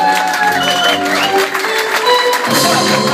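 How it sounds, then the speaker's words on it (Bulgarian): Wedding guests clapping loudly for the bride's mother, dense applause with crowd noise and some shouts, overlaid by music throughout. "сега силно трябва да ръкопляскате за тъщата"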